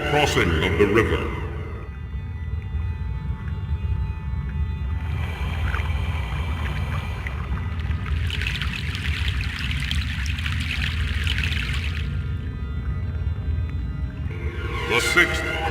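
Continuous rushing, pouring water as a boat crosses a river in the PC game Broken Sword: The Sleeping Dragon, with surging splashy bursts midway and a brief brighter swell at the close.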